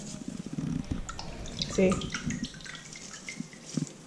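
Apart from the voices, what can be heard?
water in a sink while scrubbing a turtle's shell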